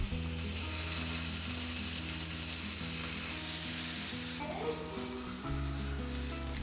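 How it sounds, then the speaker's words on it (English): Paneer cubes sautéing in ghee in a pan, a steady soft sizzle with occasional scraping and stirring clinks, fairly quiet and close. "I'll take some paneer and saute the cubes in some ghee"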